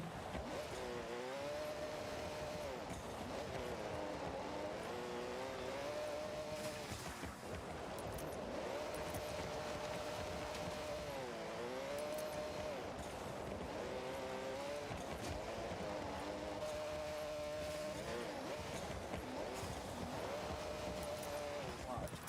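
A Subaru driven in the racing game Forza Horizon 6, its engine loud and continuous as it revs up and drops through repeated gear shifts, with talk underneath.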